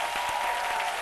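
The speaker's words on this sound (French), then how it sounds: "Merci d'applaudir public, s'il vous plaît." A studio audience at a French midday television show gives a dense burst of clapping that is loud and continuous across the short moment, with no talk over it.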